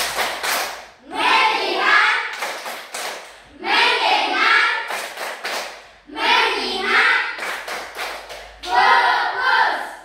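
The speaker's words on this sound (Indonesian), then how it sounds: "Dan tepuk fokus" Students in a classroom perform a rhythmic focus clapping chant, sharp clusters of claps alternating with loud unison chanting in four repeated cycles.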